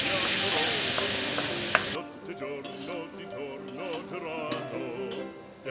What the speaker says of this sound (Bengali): এবার এখানে যে মশলার পেস্টটা তৈরি করে রেখেছিলাম সেটা এবার এর মধ্যে দিয়ে দিচ্ছি।